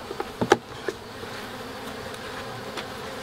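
Honey bees hum around an urban backyard hive, a thin steady buzz with a few sharp knocks at the start, close by and without voices.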